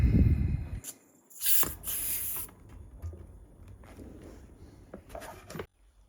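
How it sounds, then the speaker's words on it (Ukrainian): A hand pump inflating a bicycle inner tube filled with puncture sealant, giving bursts of close airy hissing strokes with pauses and some rubbing handling noise in between. "накачуємо повністю наше колесо."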